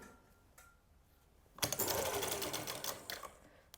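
A sewing machine stitches lace onto a neck design, starting after a quiet moment and running as one steady, close, fairly loud burst of rapid stitching for about two seconds before stopping.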